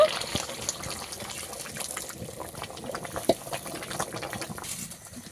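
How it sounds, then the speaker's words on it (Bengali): Hot water pours into a pot of chicken curry, a close gushing and bubbling flow that runs steadily, with a small clatter partway through. "এইবারে গরম জল দিয়ে দেবো পরিমাণ মতো জল দেব"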